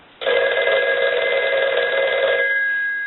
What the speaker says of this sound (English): So I want to go ahead and ring the telephone.